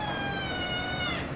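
A house cat gives a single drawn-out meow, close and clear, indoors during a makeup session, falling slightly in pitch over a second or so with no talk.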